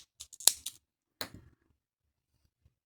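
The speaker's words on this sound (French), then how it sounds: "Et je coupe à nouveau mon fil." Scissors snip through crochet yarn in a few quick, close, crisp cuts, with one sharper snip and a last cut after a short pause, then near silence.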